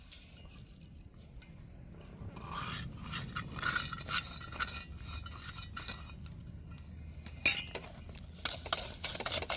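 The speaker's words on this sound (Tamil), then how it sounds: "இந்த முட்டையோடையே நல்லா சீனி கரைஞ்சிடணும், நல்லா அடிக்கணும்." Eggs being beaten with sugar and cardamom in a bowl for a semolina cake, with a steady clinking, scraping whisk against the bowl, close and fairly quiet, growing sharper toward the end.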